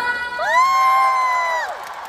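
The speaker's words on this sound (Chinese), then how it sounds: "我们先掌声给所有支持我们的朋友们" A concert crowd at the Mercedes-Benz Arena in Shanghai lets out a short, swelling collective cheer, a sustained vocal roar lasting about a second and a half before fading.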